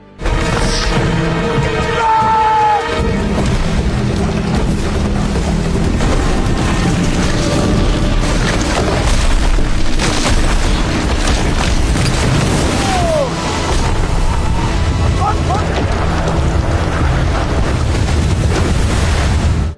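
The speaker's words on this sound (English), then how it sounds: "The ice they had just crossed had completely collapsed. Waves crashed over it." Floating ice on open water breaking apart as waves crash over it, a continuous loud roaring wash of surf and wind with heavy booming rumble throughout.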